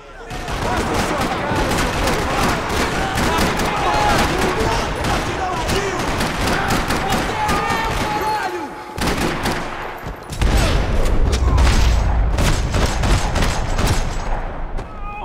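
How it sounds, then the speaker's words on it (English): Dense, continuous rapid gunfire in Max Payne 3 rattles throughout in a parking lot, heavy and close, with bursts growing louder and boomier near the end. "Another parking lot rattling with gunfire."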